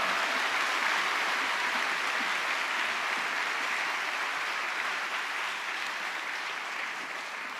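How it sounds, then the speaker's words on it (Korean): A church congregation applauding steadily, a dense wash of clapping that holds for several seconds and eases slightly toward the end. "큰 박수로 격려해 주시면 감사하겠습니다."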